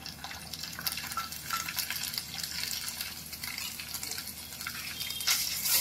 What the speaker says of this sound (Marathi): हे वाटण आपण व्यवस्थित तेलात परतून घेऊया